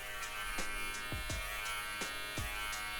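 An electric beard trimmer with a number 6 guard buzzes continuously at a steady pitch, close by, with faint rhythmic thuds as it moves across beard hair.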